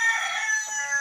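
A rooster of a good breed crows once on a farm with parrots and chickens, the call loud and close, with a sustained bright tone that holds for about a second.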